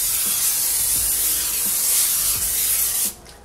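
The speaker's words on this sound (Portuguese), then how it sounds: "Vou usar aqui um óleo spray." Cooking oil spray is sprayed onto plastic wrap in a kitchen: a continuous bright hissing burst lasting about three seconds, close and fairly loud, stopping abruptly near the end, with no talking.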